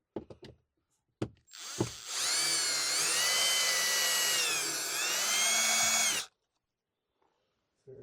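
A power drill or driver runs steadily for about four seconds while removing top dashboard screws in a 2018 Chevrolet Silverado cabin, with brief clicks and knocks before and after.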